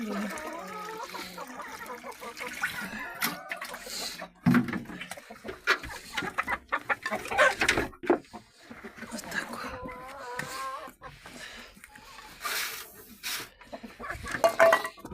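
Hens cluck and chatter close by while being fed, soft repeated clucks and peeps mixed with rustling feed and occasional knocks, with someone speaking over them.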